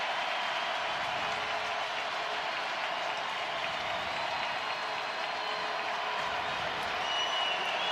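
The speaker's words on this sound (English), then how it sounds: "as the Solaris Center crowd makes some noise" A college football crowd roars in the Solaris Center stadium during a fourth-down play in the North Dakota State at North Dakota game, a steady, broad wash of distant cheering and clapping that holds level throughout; no speech rises above it.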